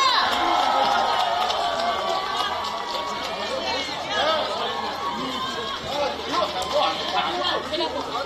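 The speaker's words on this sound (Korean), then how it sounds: "여러분 큰 박수로 환호와 큰 박수로 맞아주십시오" A large crowd at an outdoor Korean election campaign rally cheers and claps in a sustained, dense roar, with shouting and chatter mixed throughout.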